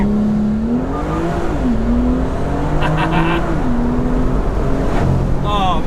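A BMW M2 under full throttle from a launch, its engine note rising and dropping through gear changes, loud and close from inside the car, with brief voices over it.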